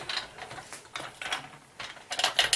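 An adjustable metal guide rail on a Shijing large-format tile carrier slides along its frame, making a series of close scraping, ratcheting clicks in short uneven bursts.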